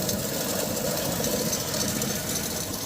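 Daihatsu Feroza carbureted engine running steadily with a dense, rough mechanical hum and faint knocking, close by and without voices; no distinct rev and drop is evident.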